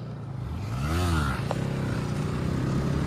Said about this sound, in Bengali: তো দেখতে পাচ্ছ মাসুদ রাইডার এখন সিরা হুইলি মারছে।